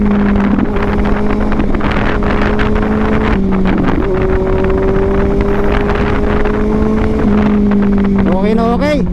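Kawasaki Z900 motorcycle with a fuel pump problem accelerating, a steady engine drone holding pitch with shifts in between, heavy wind rush over the microphone throughout and a rising whine near the end.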